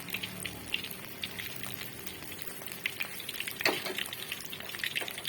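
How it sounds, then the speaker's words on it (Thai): Chicken wings seasoned with seasoning powder and light soy sauce fry in hot oil, giving a steady crackling sizzle with scattered pops and one brief louder burst near the end, no one speaking. "ทอดทั้งหมดเลยจ้ะ"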